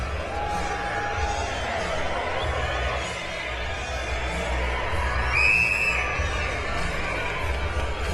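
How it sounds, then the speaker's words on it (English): A boxing arena crowd roars after a round-six knockdown from a body shot, a sustained wash of cheering and shouts with a swell of excitement midway, while a commentator talks over it. "this crowd is now really into it after the knockdown by Bute in round 6"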